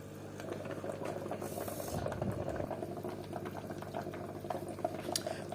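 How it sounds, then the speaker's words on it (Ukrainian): An air pump keeps aquarium water bubbling with a continuous, gentle gurgling and fizzing, quiet and steady for the whole stretch, with no talk. "Водичка булькає, риби будуть довольні."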